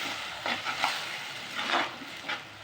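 A ground paste of mint, tomato, garlic, ginger and green chili sautés in a pan, a soft sizzle broken by several short stirring scrapes.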